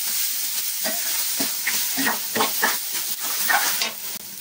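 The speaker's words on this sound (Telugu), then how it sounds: "తురుము వేసుకున్న తర్వాత బాగా కలుపుకోవాలి." Grated raw mango being stirred into peanuts frying in a pan: a steady sizzle with repeated scraping strokes of a spoon against the pan, close and clear, and no talking.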